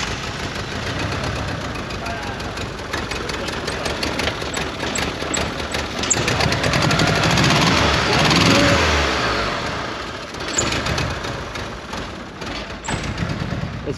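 Mitsubishi Eclipse barn find engine running rough and uneven after a fuel surge, a continuous loud rumble with irregular thumps and misfires, under voices talking.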